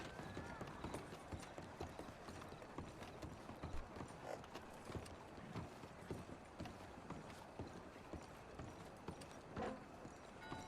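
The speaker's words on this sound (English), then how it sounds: "it is definitely a buckskin Mustang" Hooves of a buckskin Mustang horse in a video game clop in quick, faint repeated beats, with faint clicking mechanical noises among them.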